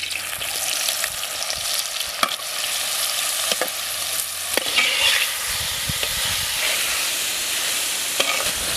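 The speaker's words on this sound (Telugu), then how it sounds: "ముందుగా మనం ఉడకబెట్టుకున్న పనస ముక్కల్ని వేపుకుందాం" Boiled wild jackfruit pieces fry in ghee and oil for a jackfruit biryani, a dense, even sizzle close up, broken by occasional clicks of a stirring spoon, with no talk.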